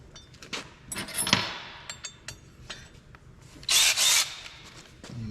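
13mm bolts fitted with lock washers are tightened with a socket, producing a close series of metallic clicks and clinks along with a couple of brief harsh ratcheting bursts.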